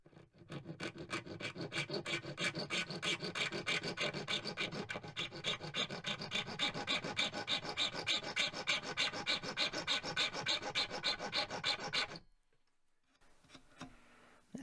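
A hand file rasps across the wood of a Kalamazoo guitar in fast, even back-and-forth strokes, a close, steady scratching rhythm that stops abruptly near the end, followed by faint handling sounds.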